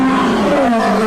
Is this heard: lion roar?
yes